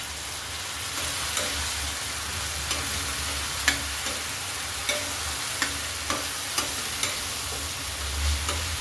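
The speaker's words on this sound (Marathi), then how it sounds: "आपल्याला त्याच्यामध्ये थोडीशी हळद घालायची किमूटवर आणि मस्त मिक्स करून घ्यायचं" Chivda vegetable dish cooking in a pan as turmeric is stirred in, a steady close sizzle with regular light scrapes of a spoon against the pan.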